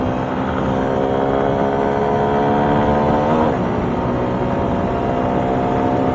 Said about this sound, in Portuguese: Andar de moto é bom demais, galera.